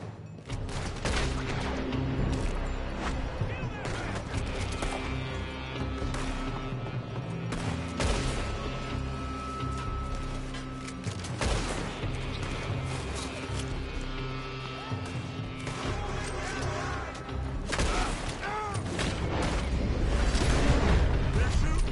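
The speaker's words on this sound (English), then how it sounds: "They're shooting from that building." Heavy gunfire in the Red Dead Redemption 2 video game, shots fired from a building in a dense, continuous battle of cracks and booms, with loud voices calling out over the shooting throughout.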